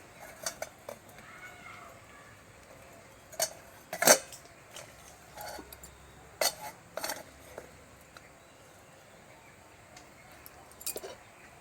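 A metal plate of biscuit dough is set onto a stand inside a preheated pot on the stove, making a few faint, scattered clinks and taps with one sharper knock, against a quiet hiss.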